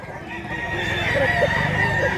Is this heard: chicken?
yes